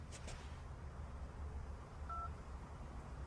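A mobile phone keypad sounds a couple of short, faint dialing tones, one brief beep early and another a couple of seconds later, over a low, steady room hum without talk.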